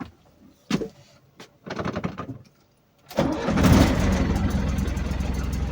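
A few clicks and a starter whir, then the engine of a vehicle being converted into a camper van catches and settles into a loud, steady idle close by.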